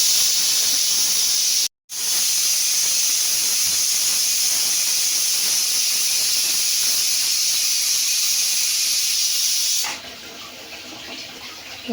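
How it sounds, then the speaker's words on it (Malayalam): A pressure cooker on the stove, cooking prawn biryani, lets off a loud, continuous high steam whistle that runs nearly ten seconds, cut by one brief pause, then drops to a quieter hiss. "രണ്ട് വിസിലടിച്ചു"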